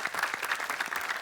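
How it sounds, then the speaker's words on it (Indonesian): A studio audience breaks into brief, lively applause for Hafiz, quick dense claps filling a short moment with no voice over them. "sekali lagi tepuk tangan yuk buat Hafiz"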